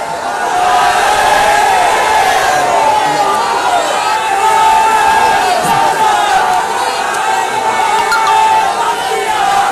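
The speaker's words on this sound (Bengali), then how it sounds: "একটু হাত তুলে একটা স্লোগান দেন।" Large outdoor crowd at a religious gathering in Boalkhali, Chattogram, loudly chanting a slogan in unison, a dense continuous roar of many voices held steady for several seconds.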